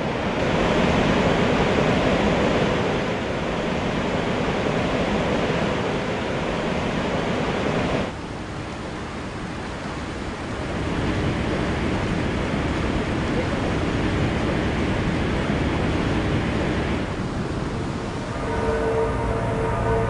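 Rhine Falls in Switzerland, Europe's largest waterfall, roaring as a massive volume of water plunges about 75 feet over a 500-foot-wide ledge; a dense, steady broadband rush fills the whole stretch, loud and continuous with slight swells.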